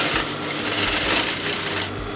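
A sewing machine runs a basting stitch along a square neckline, giving a close, continuous whirring hum that holds steady for about two seconds with no pauses.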